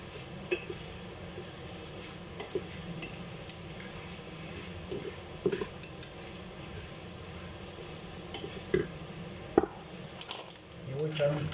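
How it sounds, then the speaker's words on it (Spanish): Seafood sizzling and hissing in a pan while being sautéed for a Spanish seafood fideuá, a steady frying hiss with occasional utensil clinks and stirring scrapes, close and moderate in level. "Vamos a rehogar."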